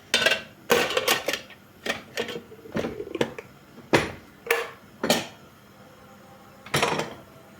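Dishes clatter and clink as they are unloaded from a dishwasher and set down, a series of sharp ceramic and metal knocks at an irregular pace, close by.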